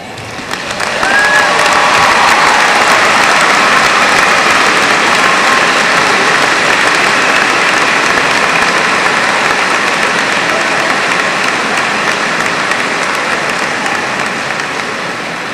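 A large crowd applauds at a 2002 high school graduation ceremony, sustained loud clapping that swells in within the first second and holds evenly, broad and roomy, with scattered cheers mixed in.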